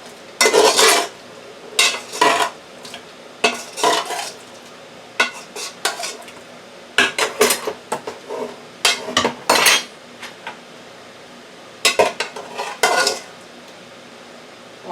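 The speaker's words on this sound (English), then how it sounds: "Let's stir that up." A utensil stirs carrots dressed with olive oil, lemon and pepper in a metal pot, giving loud, close scraping clatters and clinks in irregular bursts separated by short quiet gaps, with no talking.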